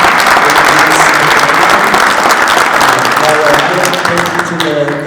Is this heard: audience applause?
yes